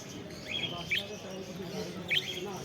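Caged pet budgerigars at a bird market give a few brief bright chirps over steady market murmur and background talk.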